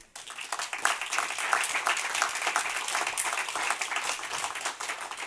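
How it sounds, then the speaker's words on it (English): Moderate audience applause during a conference closing session, a steady patter of many hands clapping at medium distance that holds evenly throughout without any talk. "I really think a big applause."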